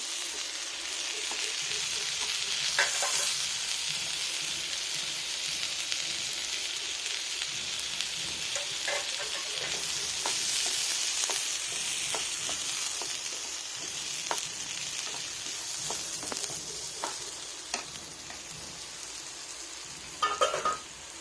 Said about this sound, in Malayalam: ഇതിൻ്റെ കൂടെ തന്നെ നമുക്കിത് അരി ഒന്ന് വറുത്തിട്ടെടുക്കാം